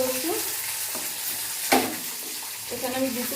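Onion sizzles as it fries in hot oil with curry leaves in a pan, a steady bright hiss with brief stirring scrapes and a sharp burst as it hits the oil, close and continuous.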